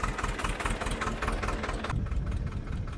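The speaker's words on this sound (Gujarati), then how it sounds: "હવે જો ટ્રેક્ટર ચાલુ થઈ ગયું છે" A tractor engine runs steadily at a farm field for peanut sowing, a close, throbbing mid-pitched chug that drops off sharply near the end.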